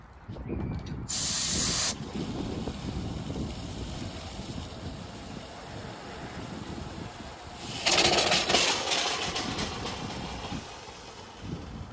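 Compressed air is blown through a pressure washer pump through a screw-in air attachment with the wand removed, to winterize it. Two loud, close hissing bursts are heard, one short and one longer, with a low mechanical hum between them.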